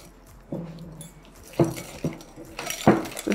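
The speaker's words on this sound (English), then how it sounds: "While the milk is heating, we're going to whisk these ingredients together." A whisk knocks and scrapes against a bowl while pastry cream ingredients are combined, giving a few irregular clinks and taps at close range with quiet pauses between them.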